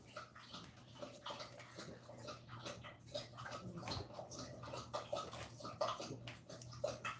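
Puppies play together in their litter, with faint scattered whimpers, scuffles and small yelps over a low steady hum, close by and quiet.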